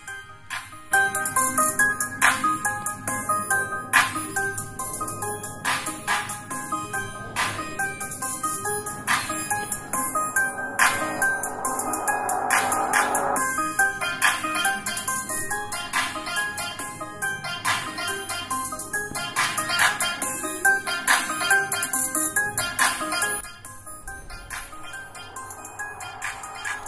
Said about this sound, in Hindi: तो इस म्यूजिक को मैं यहाँ पे प्ले कर लेता हूँ।